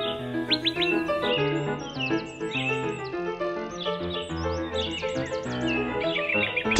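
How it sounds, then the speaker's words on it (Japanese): High, quick chirps and tweets of a cartoon tico-tico bird flutter above a steady bed of cheerful music, repeating in short bursts throughout. "ティコティコはとても賢い鳥です"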